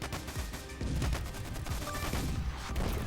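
Rapid machine-gun bursts in the video game Stickman Trenches, a dense rattle of gunfire running steadily through the whole stretch at fairly close range, with no talk over it.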